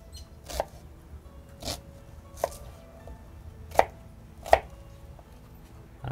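A knife chops red onion and red and yellow peppers on a cutting board, giving about six sharp, evenly spaced knocks over a quiet background with no speech.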